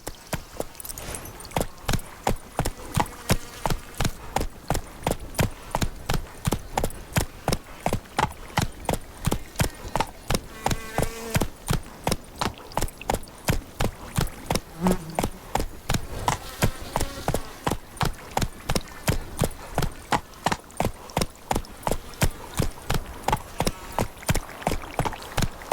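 A horse gallops steadily in The Witcher 3, its hooves striking in a fast, even rhythm of clip-clop beats that carries on without a break the whole time, close and prominent.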